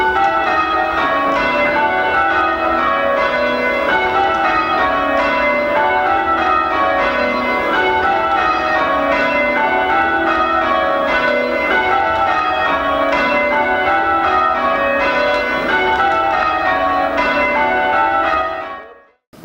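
Church bells rung by a team of bell ringers in the Swansea and Brecon diocese peal steadily in overlapping rounds, loud and continuous with no talk, then cut off abruptly at the end.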